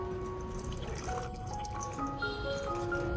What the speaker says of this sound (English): I took a bottle of clean filtered water and poured it into the vase, just enough to cover the bottom,